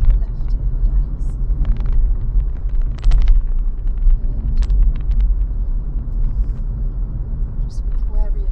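A car rolls along a loose gravel rural road with a steady low rumble and scattered crunching bursts, while a driving instructor and learner talk over it.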